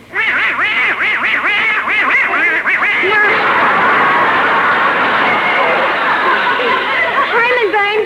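A voice imitates a duck, quacking in rapid, garbled, duck-like chatter that runs loud and unbroken through the whole stretch, during a 1941 Christmas radio comedy broadcast.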